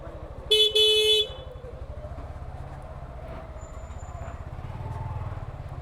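A car horn blares once on a congested road in a traffic jam, heard from a Suzuki Gixxer FI Disc motorcycle, with the steady rumble of idling engines and traffic all around.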